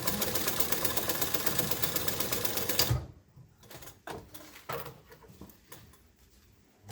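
A sewing machine runs in a fast, continuous rattling stitch while sewing a zigzag on a back band, then stops abruptly, followed by a few scattered clicks and handling noises.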